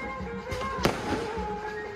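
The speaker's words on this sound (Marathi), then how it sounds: "वरात पण आले फटाके फुटतात मस्त." Firecrackers go off during a wedding procession, with one sharp close burst standing out among fainter pops over a steady background of festive noise and drumming.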